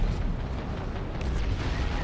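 Plasma cannon fire explodes in the real-time strategy game Dawn of War 2: a dense, rumbling blast of battlefield noise that stays loud and continuous throughout, with no voices.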